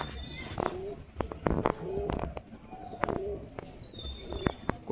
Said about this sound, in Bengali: এই যে উপরে উড়িয়েছি পায়রা